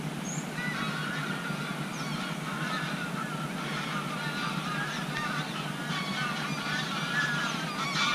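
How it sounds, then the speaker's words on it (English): A flock of geese honking beside a river, repeated nasal calls overlapping at a middle distance over a steady broad wash of water and wind, continuous throughout with no talking. "Oh, we've got some geese here,"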